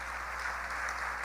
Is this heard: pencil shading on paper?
no